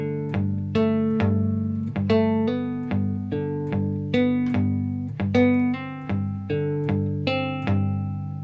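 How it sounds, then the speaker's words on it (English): A cigar box guitar plays a folk-country major-scale phrase, with plucked notes joined by quick left-hand pull-offs and hammer-ons; bright, close and alone in a steady rhythm over about eight seconds. "I can do a pull and then straight away hammer on with my left hand, which should sound like this."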